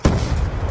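A frag grenade detonates in Black Ops 2 on the Nuketown-style Meltdown map during a Hardpoint match: one sharp, loud boom with a rumbling low tail that fades over under a second.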